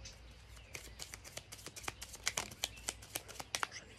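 Soft, close riffling and flicking of playing cards being drawn from a deck, a quick irregular run of light papery taps that grows slightly louder toward the end.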